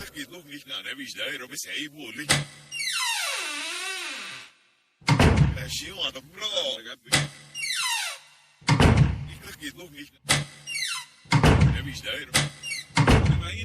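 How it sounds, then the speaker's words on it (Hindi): A room door is shut during a Hindi horror story, giving several sharp thuds and knocks among loud spoken narration and eerie, sweeping background music. "इसे अपना वहम समझकर जैसे ही उसने कमरे का दरवाजा बंद किया"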